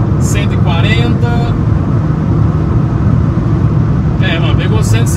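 A Nissan with a six-speed manual gearbox accelerates hard in fifth gear at around 130 km/h, a steady loud engine and road drone filling the cabin while someone talks over it.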